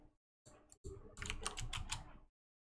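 Computer keyboard typing ends in a Shift and Enter press: a few quiet key clicks, then a denser burst of close, crisp keystrokes, with silence before and after.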